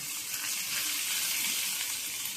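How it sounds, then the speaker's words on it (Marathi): A hot tempering of asafoetida and mustard seeds is poured over cooked rice, giving a steady, soft, even sizzle that holds throughout with no voices. "ही फोडणी आपण या भातावर घालणार आहोत"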